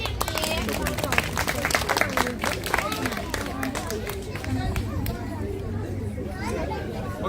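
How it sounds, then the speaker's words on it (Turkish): Claps ring out for a young girl at a children's storytelling show, a burst of quick hand claps mixed with lively chatter and children's voices that carry on after the clapping thins. "Mira'ya bir alkış alabilir"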